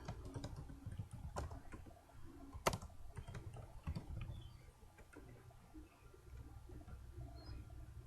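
Keys clicking on a computer keyboard while entering bulleted text into a presentation slide, a steady patter of soft, close taps with one sharper keystroke, quiet overall.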